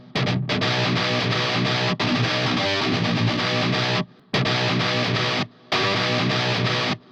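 Electric guitar played through a Y2 delay mode with reverb, sustained distorted chords ringing loud and dense, cut by a few abrupt short stops before the wash resumes.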